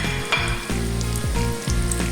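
Calamari rings fry in hot oil in a pan with a loud, continuous sizzle close up, broken by a few quick stirring scrapes and bubbling bursts.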